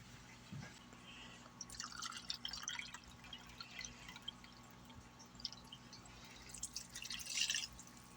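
Leftover coffee poured into a mixing bowl for a batch of bar cookies, a soft close trickle and splash of liquid, fairly quiet, rising toward the end.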